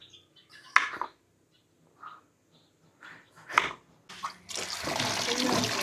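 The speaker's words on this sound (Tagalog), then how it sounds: "nahiwa na natin yung ating sitaw, kalabasa, hugasan po natin" Cut string beans and squash rinsed in water, a few isolated splashes and sloshes early on, then a loud, continuous rush of poured water near the end.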